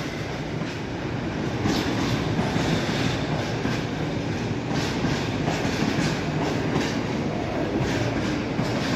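A train pulls out of Nottingham station with a loud, steady rumble and rhythmic clickety-clack of wheels over rail joints, close by and continuous.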